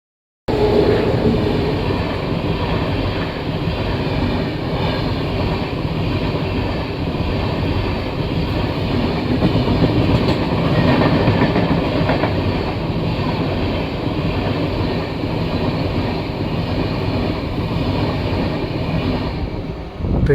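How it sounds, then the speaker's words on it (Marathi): A passing train rumbles past close by, heard from inside a second train halted at a crossing on the Madgaon–Bandra Terminus route, a loud continuous roar with rattling wagons for about twenty seconds, steady from start to end. "ट्रेन पास झालेली आहे आणि आता आपला प्रवास पुन्हा एकदा सुरू झालेला आहे"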